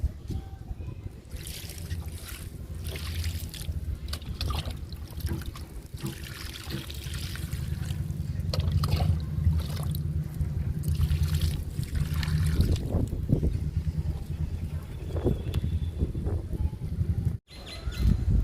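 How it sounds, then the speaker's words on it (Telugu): Water trickles and pours steadily onto garden soil while watering ridge gourd plants, a continuous close dribbling with some rustling and faint outdoor sounds in the background. "బీరపాదికి వాటర్ ఇచ్చేద్దాము"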